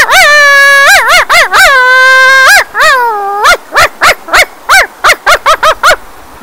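A voice imitates a small Pomeranian or pug barking: a few drawn-out whiny yaps followed by a quick run of short, sharp yips, loud and close.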